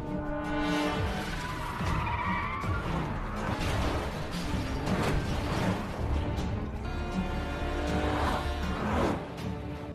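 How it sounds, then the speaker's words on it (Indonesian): A film car chase: loud, dense engine roar, screeching tires and sharp crashing impacts, busy and continuous throughout. "Adegan kejar-kejaran dengan mobil pun tidak bisa dihindari."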